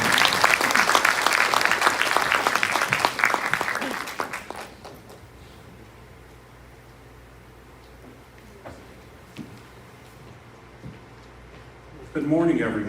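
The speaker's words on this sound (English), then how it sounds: "Ladies and gentlemen, a round of applause" Audience applauding a speaker being introduced at a University of Georgia event, a loud burst of dense clapping for about four seconds that then fades into quiet room tone, with a voice starting at the end.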